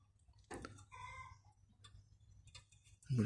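A chicken clucks in a short, close burst near the start, with a few fainter clucks after it, amid quiet background near a tractor under repair.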